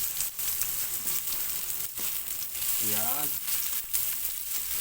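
Onions sizzle steadily as they sauté in a pan for ginataang talbos ng kamoteng kahoy, a continuous close frying hiss, with a brief voice speaking partway through.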